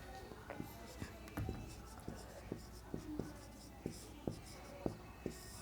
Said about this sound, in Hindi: हिंदी में भी लिख देती हूँ मैं